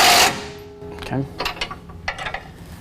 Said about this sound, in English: he's going to use a 19mm socket to tighten down our 2 bolts